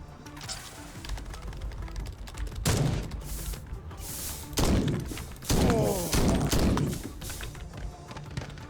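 Gunfire in the action game Madness: Project Nexus: scattered thumping shots and short bursts, some loud and close, over a busy mix of combat noise with no talking.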